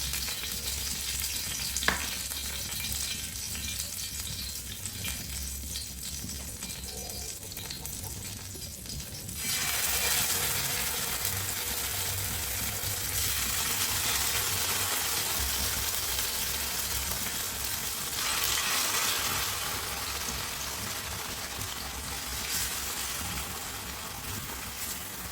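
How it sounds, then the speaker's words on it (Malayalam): Masala-coated fish sizzling in hot coconut oil with curry leaves, a steady crackling fry that swells louder as more pieces go into the pan, continuous with no talking. "ഇനി നമുക്ക് മസാല പുരട്ടി വെച്ച ഓരോ മീനും അതിലേക്ക് ഇട്ട് കൊടുക്കാം."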